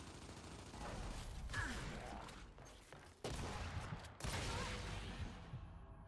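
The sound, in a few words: Boomshot explosion in the video game Gears 5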